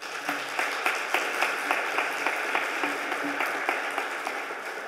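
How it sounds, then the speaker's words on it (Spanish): A seated audience at a Spanish health congress on Alzheimer's claps in a sustained, even round of applause, moderately loud and continuous with crisp individual claps. "pido un aplauso para ella"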